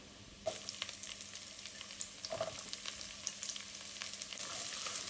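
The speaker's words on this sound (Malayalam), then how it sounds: "ഉള്ളിയും ഒന്ന് വഴറ്റിയെടുക്കണം." Garlic and onion fry in a pan with a dense, crackling sizzle that starts abruptly and continues at a fairly even level, with occasional sharper pops and light stirring.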